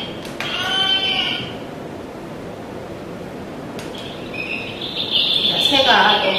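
Electronic board game sound effect from a Ravensburger game: a short bleat-like cry at the start, then a quiet pause, followed by high, thin bird chirps and tweets near the end, with no talking.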